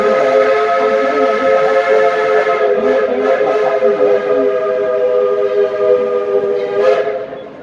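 Dollywood Express steam locomotive #192 pulling into the depot, its whistle blowing a loud, sustained chime close by over the rumble of the running train before the sound tails off.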